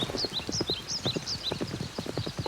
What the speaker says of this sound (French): Galop, galop. Encore plus vite.